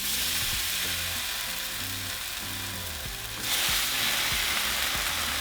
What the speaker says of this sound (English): And now we're going to cook our ham